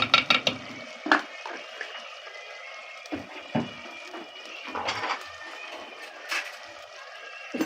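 Ginger garlic paste frying with onions in a pan, heard as a soft close sizzle under scattered scrapes and taps of a spoon stirring, in short uneven bursts with quiet gaps.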